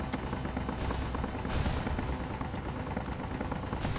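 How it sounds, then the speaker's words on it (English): Turret gunfire in the space combat game Space Engineers, rapid bursts of shots crackling continuously over a dense, noisy mechanical rumble with no talking. "I still hear gunshots."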